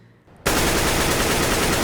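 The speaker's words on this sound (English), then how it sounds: "Now this can go way back to where the AK used to sound like this" Gunfire from the old AK rifle in the video game CS:GO: near-silence, then an abrupt, loud, continuous burst of rapid shots that holds steady without pause to the end.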